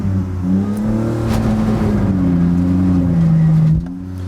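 Car engine revving with throttle held against the brake for a burnout, a loud sustained drone whose pitch wavers and climbs toward 3,000–4,000 RPM before easing off near the end, close up.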